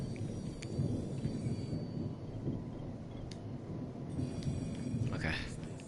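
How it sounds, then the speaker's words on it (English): Low rolling thunder from the video game Dying Light, a sustained deep rumble filling the whole stretch with a slight swell near the end, heard from inside a building with faint higher crackles and a brief rising sweep on top. "Oh, it's thundering, but the rain effects don't show when you're inside though."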